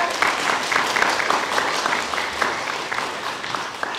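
A crowd applauds at the awards ceremony of a stage-speech competition, a continuous, even spatter of many hands clapping for several seconds, loud and full with no pauses.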